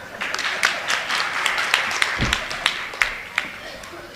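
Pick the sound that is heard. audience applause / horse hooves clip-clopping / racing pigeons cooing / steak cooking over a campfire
audience applause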